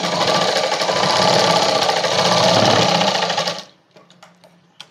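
A sewing machine runs steadily while stitching the lining of a padded blouse, a loud continuous rapid whir that stops abruptly near the end, leaving a few faint clicks.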